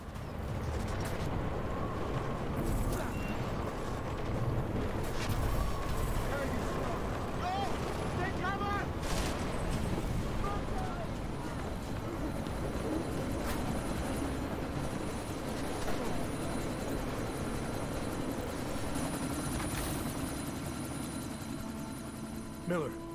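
A helicopter in the video game Deus Ex: Mankind Divided churns through a sandstorm, its steady rotor and engine drone persisting throughout, overlaid with scattered mechanical clanks and game effects.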